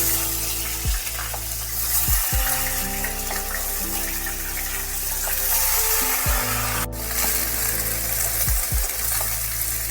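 Flat beans sizzling in hot oil, a continuous loud frying hiss with occasional clatters of stirring, close up and without speech.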